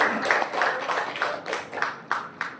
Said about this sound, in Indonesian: Tepuk tangan buat Pak Rama, Bapak Ibu.